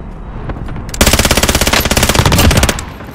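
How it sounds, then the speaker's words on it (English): Rapid automatic gunfire in Call of Duty Modern Warfare, a loud, dense burst of evenly spaced shots lasting about two seconds after a quieter lead-in, with no talk over it. "they're shooting at me"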